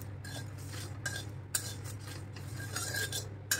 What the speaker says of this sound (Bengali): দিয়ে মশলাটাকে ভালোভাবে ভেজে নেব